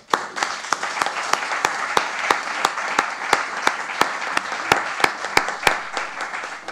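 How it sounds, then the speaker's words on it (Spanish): An audience at an ecology seminar applauds, a sustained bed of clapping with regular loud individual claps punctuating it close by, steady for the whole stretch. "Muy bien, un aplauso."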